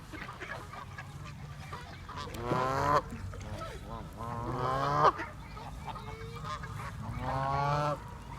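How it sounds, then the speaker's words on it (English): Geese honk loudly in three bursts of repeated nasal calls, separated by a quieter background murmur. "I love this noisy goose here."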